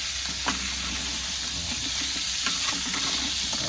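Cooking oil sizzles steadily in a pan with crab, giving a continuous close hiss broken by occasional stirring scrapes and soft pops.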